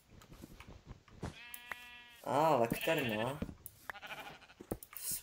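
A Minecraft sheep bleats twice in quick succession, wavering and close, amid clicks and scattered game noises, with a brief spoken word in Czech nearby.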